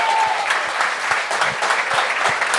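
A television studio audience at a comedy talent show applauds a comedian with sustained, close clapping. A few sharper individual claps stand out over the crowd's continuous patter.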